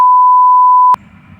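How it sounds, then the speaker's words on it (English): A single steady electronic battery notification beep sounds loud and clear for just under a second, then stops, leaving faint background noise. "I'm getting a battery notification."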